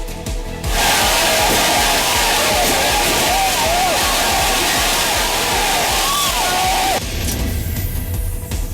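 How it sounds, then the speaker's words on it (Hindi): Large crowd at a funeral in Pulwama, Kashmir, chanting slogans in a loud, dense roar that swells up near and steady for several seconds before easing back, with wailing voices rising over the mass of sound. "इनमें से एक के अंतिम संस्कार में भारी भीड़ जुटी और पाकिस्तान के समर्थन में नारेबाजी भी की गई।"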